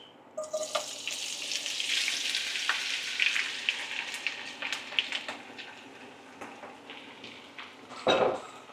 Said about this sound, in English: We're not deep frying it. We're just shallow, very, very shallow, just enough just to coat them.